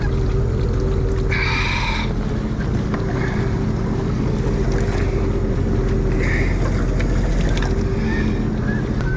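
A boat engine on Lake Simcoe runs with a steady low rumble under wind noise, with a few brief higher whines layered over the continuous drone.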